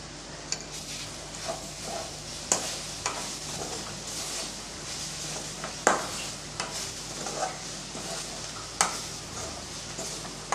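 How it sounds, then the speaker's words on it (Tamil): Drumstick leaves being stirred with grated coconut in a pan, a soft continuous scraping and rustling with a light sizzle and occasional sharp clicks of the spoon against the pan. "இப்போ நல்லா இதை கலந்து விட்டுறலாம்."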